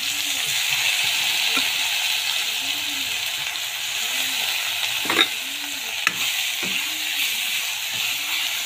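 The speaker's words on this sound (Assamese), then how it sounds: "এতিয়া ইয়াত চাউলখিনি দিম চাউল দালিখিনি ভাজি ল'ম" Rice and lentils fry in a hot pan, a steady close sizzle and hiss with occasional scraping stirs and a couple of louder clinks, no one speaking.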